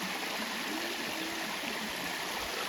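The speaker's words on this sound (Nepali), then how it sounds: "यहाँ मिनी झरना बाप रे बाप पानी पनि धेरै छ" A small waterfall feeding a flowing stream along a mountain path, an even rushing wash of water heard steadily with no voices.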